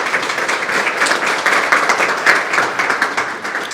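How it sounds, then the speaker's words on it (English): Audience applause at a November morning gathering, steady, close and fairly loud clapping from many hands, continuing throughout without speech. "So give them a round of applause."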